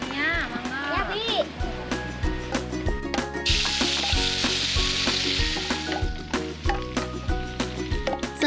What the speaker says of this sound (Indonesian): Setelah semua bumbu halus, kemudian ditumis